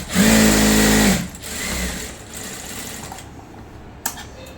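A sewing machine stitches a double repeat stitch on salwar pant fabric, a loud close burst of rapid motor whirring that stops after about a second, then a quieter shorter run and a single click near the end.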